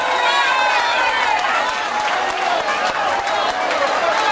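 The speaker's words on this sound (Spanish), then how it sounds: "¡Fuerte un aplauso!" A crowd in a concert hall cheers and applauds a live popular music performance, producing a dense, steady wash of clapping and shouting.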